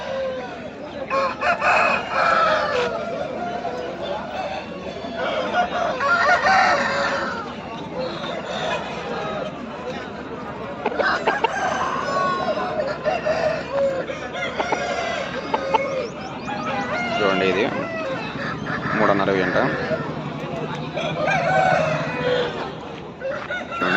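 Roosters crow and hens cluck amid a busy poultry market in Pileru, with steady crowd babble and someone talking nearby throughout.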